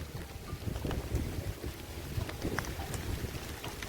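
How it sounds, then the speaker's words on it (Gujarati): Steady rain falls in a rural village, a dense continuous hiss with gusty wind and scattered patter on surfaces, with no speech. "જો તો વરસાદ કેવો થઈ રહ્યો છે"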